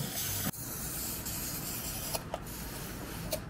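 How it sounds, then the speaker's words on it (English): An aerosol spray can sprays onto a jacket in steady, close hissing bursts lasting several seconds, with a brief break near the start and faint clicks as the nozzle sputters. "Why are you spraying in your jacket?"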